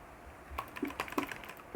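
Rapid butterfly clicking on a computer mouse, a quick cluster of close, crisp plastic clicks in a short irregular burst.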